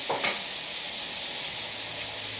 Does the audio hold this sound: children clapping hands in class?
no